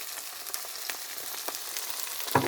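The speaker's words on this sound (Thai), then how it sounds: "ทอดหอยกันกรอบๆแซ่บๆพยายามให้กลับด้านให้กรอบนะคะ" Shellfish fry in hot oil until crisp, giving a continuous loud crackling sizzle with scattered sharper pops and a brief utensil clatter near the end, with no talking.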